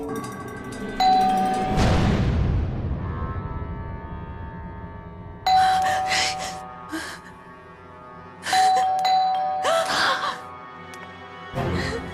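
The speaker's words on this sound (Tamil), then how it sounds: "தேவையில்லாம காலிங் பெல் அடிச்சுட்டே இருந்தேன்" A doorbell in a Tamil TV horror serial rings repeatedly: three separate chiming rings spaced several seconds apart, each followed by a ringing tail, with faint voices and breathing between them.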